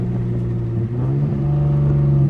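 A V6 Dodge Charger with new spark plugs and coil packs accelerates hard in second gear. The engine note climbs loudly and close by in one short, continuous pull.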